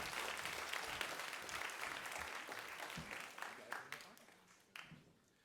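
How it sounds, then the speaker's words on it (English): Audience applause fills a school geography bee hall, a dense wash of many hands clapping that stays steady before thinning out with a few last claps near the end. "please give a round of applause to Sabrina, Nicholas, and Krish."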